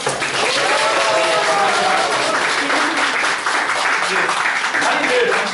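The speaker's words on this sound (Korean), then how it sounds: "뒤에 계신 분들 박수 많이 쳐주세요" A crowd gathered at a ribbon-cutting ceremony for an environmental festival at an arts center applauds loudly and steadily, a dense clapping wash with voices and a few tonal sounds mixed in.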